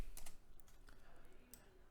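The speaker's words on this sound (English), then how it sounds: "pull off the execution pin and just type exit game" Quiet clicks and taps of fingers typing on a computer keyboard, a short uneven burst of keystrokes close by at low level.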